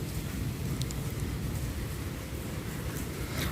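Heavy rain during a storm with distant thunder: a constant rushing hiss over a deep rolling rumble, moderately quiet and unbroken, with no voices.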